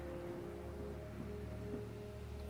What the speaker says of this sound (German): wenn dieser übertrieben starke Regen dann mal aufhören würde